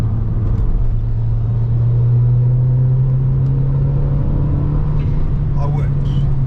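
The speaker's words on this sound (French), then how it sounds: "Le Turbal là, il fait son métier." Mazda 3 MPS turbocharged engine droning steadily while driving on small country roads, a constant low rumble with a slowly rising tone and faint mechanical whine, heard from inside the car.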